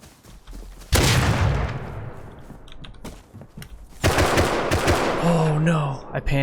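Gunfire from the survival video game Rust rings out in two loud, close bursts of rapid shots with a trailing echo between them, followed by a brief mechanical whine at the end.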